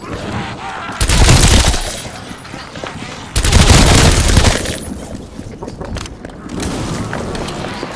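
Rifle gunfire in the video game Call of Duty: Black Ops Cold War comes in two loud, close bursts of rapid shots, separated by quieter game ambience, with a third, softer stretch of fire near the end.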